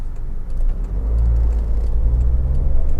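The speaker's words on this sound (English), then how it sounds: "obviously it's push button start on these, starts absolutely instantly as these Toyota engines always do" A Toyota RAV4 with a 2.0 engine starts by push button and quickly settles into a steady, close low idle rumble with a few faint clicks, no talk.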